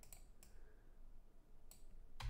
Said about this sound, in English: If I'm typing code in my code editor